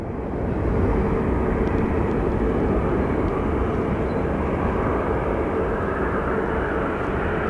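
A Boeing 747 airliner at Phoenix Sky Harbor Airport gives off a loud, continuous jet roar that stays steady for the whole stretch, with no talking over it.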